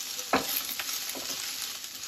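Washed mint leaves roast in a hot pan, giving a soft, steady sizzle with a sharp stirring scrape near the start and a few lighter scrapes after, quiet and close.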